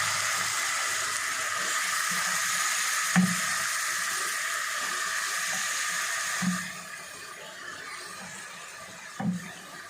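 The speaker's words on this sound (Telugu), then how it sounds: "ఇప్పుడైతే వంకాయ ముక్కలు అయితే వేసుకున్నామండి." Eggplant pieces fry in a spice masala of green chillies, small onions and ginger. A steady, moderately loud sizzle runs throughout, with a few soft low knocks from stirring spaced several seconds apart.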